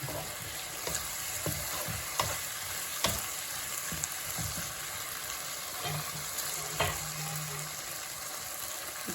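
Chicken thoran cooking in a pan with plenty of liquid, a close, steady sizzle broken by repeated scraping stirs and light clinks from a spoon against the pan.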